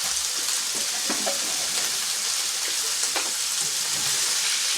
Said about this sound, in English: I'm going to put the bacon in with it as well